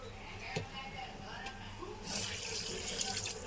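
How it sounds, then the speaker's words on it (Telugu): Tap water runs in a sink as raw chicken is washed in a home kitchen, a steady splashing rush that swells louder midway, with a few soft knocks and a voice speaking over it. "ఇప్పుడు మనం వాష్ చేసుకోవాలి ఈ చికెన్ని."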